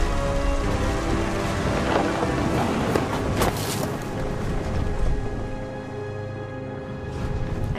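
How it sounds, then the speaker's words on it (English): Heavy rain and a rumbling thunderstorm in the game What Remains of Edith Finch, with a dense, steady wash of downpour, low rolling thunder and gusty wind throughout, no voices. "Thunder sounded much too close and full of angry power."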